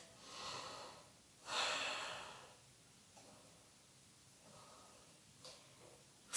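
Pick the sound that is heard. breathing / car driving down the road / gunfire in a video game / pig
breathing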